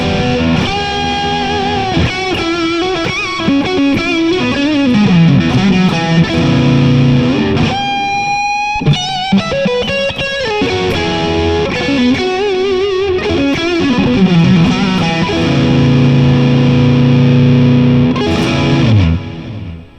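A heavily distorted electric guitar on the neck pickup in series plays a continuous riff with sustained chords and bends, loud and up close, with no talking.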